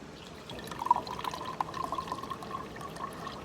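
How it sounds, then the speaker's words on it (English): Water pours into the Enigma demo box, a soft, faint, steady trickle and gurgle with a few small drips and splashes, with no voices. "So if I keep pouring water in,"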